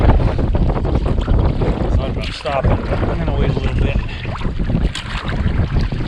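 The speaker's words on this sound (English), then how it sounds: "It is pretty darn windy." Strong wind gusting across a pond in a Vermont spring snowstorm while someone paddles a Hornbeck boat, a loud, steady roar with buffeting on the microphone and someone talking over it throughout.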